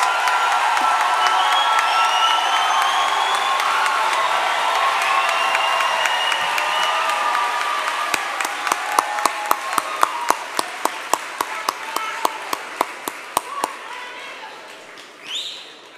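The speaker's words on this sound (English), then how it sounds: "let us congratulate all the graduates with our cheers and applause" Spring commencement audience cheers for the graduates, a large crowd's whoops and shouts swelling and fading, then turning into sharp rhythmic clapping and scattered applause that dies away near the end.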